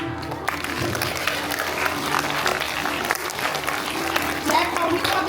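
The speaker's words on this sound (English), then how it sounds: "Clap loudly for Divya ma'am." School audience at a Founders Day celebration clapping for a class teacher, a full, continuous round of applause from a crowd with some voices mixed in, steady and fairly loud throughout.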